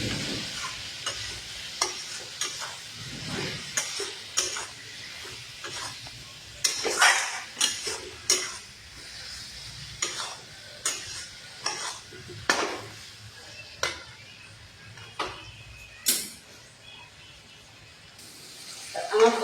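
Chili powder being stirred into a fish and potato curry in a pan, with repeated scraping clinks of a spoon against the metal at an irregular rhythm over a soft frying sizzle, close and fairly quiet.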